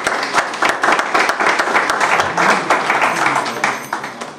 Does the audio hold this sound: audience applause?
yes